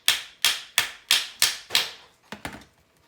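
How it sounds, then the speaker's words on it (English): The end of a screwdriver raps a Honda XR100R carburetor in a quick series of about eight sharp metallic taps, evenly spaced at first and then lighter, close and crisp with nothing else heard. "I'll just use the end of the screwdriver and give it a couple cracks"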